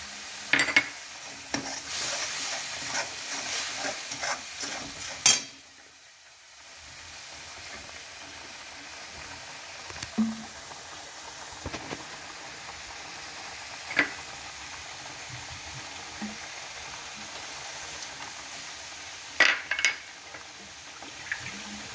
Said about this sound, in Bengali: এটা ক্রমাগত একটু নাড়াতে হবে।